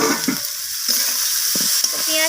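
Chopped onions fry in a pan with garlic and ginger for a pea and spring onion egg omelette curry, a bright steady sizzle with a few quick stirring scrapes, close and loud.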